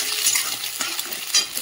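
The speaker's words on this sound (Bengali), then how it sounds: "এই যে ডিমটাকে ভেজে নিলাম" Beaten eggs frying in a pan with a steady close sizzle and crackle, brief stirring clatters breaking through, no voices.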